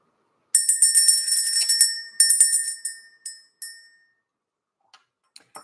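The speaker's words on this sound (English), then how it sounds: "We're going to ring the bell." A small bell is rung to clear energy, with two bright, shimmering bursts of ringing followed by a few shorter, fading strokes, then near silence with faint light clicks at the end, heard close with no voices.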